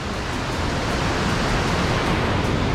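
A swollen river rushes past after rising high, a steady, dense roar of fast water that stays loud and unbroken throughout, with no voices.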